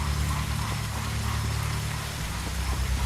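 Steady rain in a Mars survival game: a constant, dense hiss of falling rain over a low rumbling hum. It stays even throughout with no voices.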